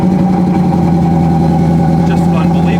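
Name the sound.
Ford Mustang custom car engine starting and idling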